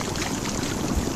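Water rushing down an 18-foot water slide, a brief steady wash of splashing flow, close and fairly loud with no talk.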